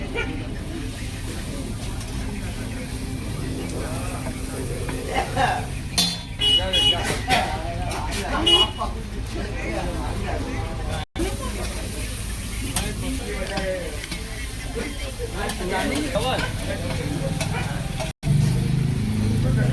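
Onions sizzle on a hot pan while being stirred for pav bhaji at a street stall in Mangrol port, a steady frying hiss with scraping stirs and background voices talking throughout.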